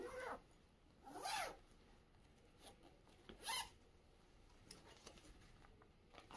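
A zipper on a transparent saree storage bag is pulled in two quick, faint strokes, with soft rustling of the bag in between.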